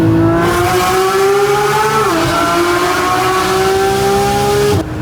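A loud, close Porsche GT3 engine revs hard and holds a high, screaming pitch for several seconds, dipping briefly before climbing again, then cutting off.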